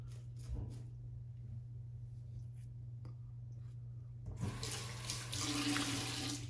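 Water running from a tap while shaving lather is made, a faint hum and a few clicks, then a steady rush of water starting partway through.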